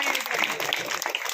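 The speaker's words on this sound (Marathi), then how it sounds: "आदरणीय गजेंद्र शेठ अंपळकर हे आलेले, आपण सर्वांनी टाळ्या वाजून त्यांचं स्वागत करायचं आहे." Crowd applause welcoming a BJP district president at a road concreting and drain works event, a dense burst of clapping from many hands, with voices mixed in.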